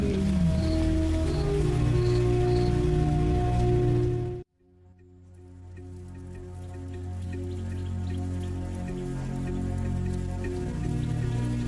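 Rain patters steadily under a swelling musical score, which cuts out briefly midway before the rainfall and music return; rain falling on lions in Botswana.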